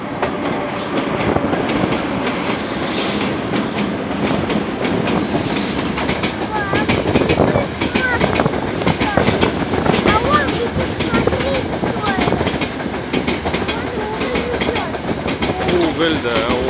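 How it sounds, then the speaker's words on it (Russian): Freight train carrying coal rolling past a station in Samara, with continuous rumble and rhythmic clickety-clack of wheels close by and a few faint squeals as people talk nearby. "Вон поезд уже подъезжает."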